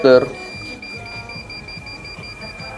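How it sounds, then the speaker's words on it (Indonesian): A steady high-pitched Arduino buzzer beeps in a fast pulsing pattern, triggered by an HC-SR04 ultrasonic distance sensor as an object nears, while a voice talks over it. "buzzer semakin kencang dan LED 3 ikut menyala"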